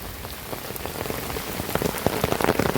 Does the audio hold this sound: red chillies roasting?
no